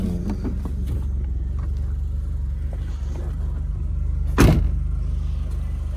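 Idling engine of a second-generation Mitsubishi Eclipse, a steady low rumble held for several seconds, with a brief louder burst of noise near the end; no talking over it.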